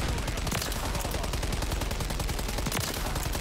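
Sustained light machine gun fire from Modern Warfare 3 gameplay, a dense rapid stream of shots with scattered louder cracks, steady and loud throughout with no talk.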